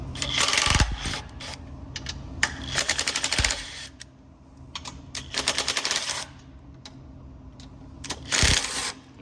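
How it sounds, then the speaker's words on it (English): An impact wrench with a 9/16 socket loosens bolts underneath a TRAX X2 during chain tightening, firing repeated short, loud rattling bursts separated by brief pauses. "we're going to go underneath with our 9/16 socket on our impact. We're going to just loosen these off just a little bit."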